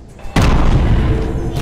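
A divine attack in the action game Aztez lands with a sudden loud boom, one heavy explosive blast that erupts after a brief quiet lead-in and rumbles on without pause to the end.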